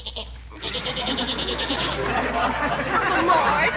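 A goat bleats repeatedly in an old-time radio comedy, a wavering nasal cry looping over a busy, noisy background while people chatter and talk in the scene.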